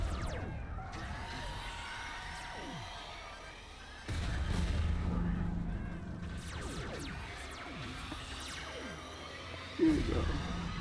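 In the video game Darwinia, grenade explosions go off in repeated blasts with booming low rumbles over a steady stream of crackling, whistling game effects. A heavier burst comes near the end. The mix sits at moderate level with little speech.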